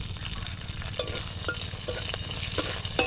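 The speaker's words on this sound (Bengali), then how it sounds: "এবার একটা শুকনো লঙ্কা আমি তেলের মধ্যে দিয়ে দিলাম আর দেব একটু সর্ষে আর একটু কারি পাতা এটা হচ্ছে চাটনির তড়কা" Dry red chilli, mustard seeds and curry leaves sizzling in hot oil as a chutney tempering, a steady close hiss dotted with small pops and crackles throughout, no voices.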